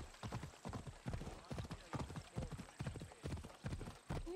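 Horse galloping in Assassin's Creed Odyssey, its hooves beating a quick steady clip-clop rhythm close by, fairly quiet, with a voice talking over it.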